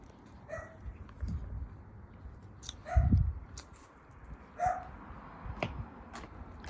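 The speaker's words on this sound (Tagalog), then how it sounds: "Kahol ng kahol si ano." A dog named Milo barks several times at a house, sharp separate yips and bow-wows spread across the moment with quiet gaps between, moderately near.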